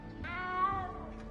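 A little cat in the game Hogwarts Legacy lets out a single short, clear meow, close and alone.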